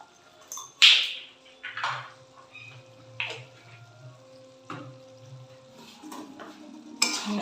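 Garam masala being stirred into a cooking pot, a spoon scraping and clinking against the metal in several separate strokes, close and fairly quiet with soft background hum and no talking.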